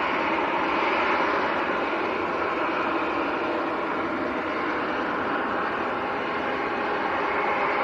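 Jet airliner engines roar steadily at Manchester Airport, with a constant broad whine and rumble from taxiing aircraft, close and loud throughout with no pauses.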